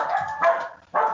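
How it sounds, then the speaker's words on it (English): A dog barks three times in quick succession, loud and close, with a short gap before the last bark and no voices over it. "I don't know what she's barking at unless it's a deer."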